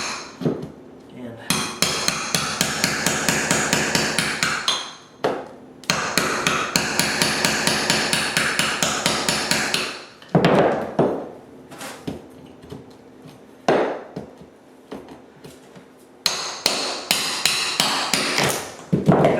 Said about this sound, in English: Pull up all these nails out of this joist